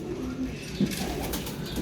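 A racing pigeon gives a soft, low coo, a brief murmur that swells once near the middle over a quiet, steady background hum.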